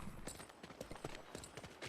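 Horse hooves clip-clopping in the video game Metal Gear Solid: Peace Walker, a steady fast rhythm of close, crisp hoof strikes.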